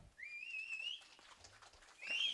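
Sharp whistling blown for a deity during a village drama performance, rising into a bright sustained tone twice, with a short whistle at the start and another toward the end, fairly loud and close.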